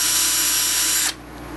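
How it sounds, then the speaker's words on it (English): A handheld power drill whines steadily while boring an angled hole for a motor on a mini tricopter frame, then stops abruptly about a second in, leaving quiet room tone. "and drill your hole in an angle"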